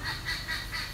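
Repeated nasal honking calls from ducks, a few rhythmic bursts over a steady low background noise, moderately distant.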